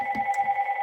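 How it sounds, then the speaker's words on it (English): A telephone rings with a brief electronic tone, two steady pitched tones warbling quickly for under a second, moderately loud and close, with no talking over it. "I apologize for the phone ringing."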